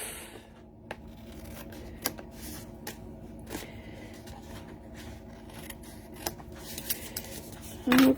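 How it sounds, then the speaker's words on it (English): Sharp scissor snips trimming the edges of a handmade paper greeting card, scattered crisp clicks spread over a quiet room, ending in a louder rustle close by. "Snip off the edge, and there you have perfect placement."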